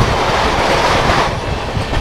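The Patna Vande Bharat Express rushes past at speed, a loud, continuous close-range roar of wheels and rushing air with no voices.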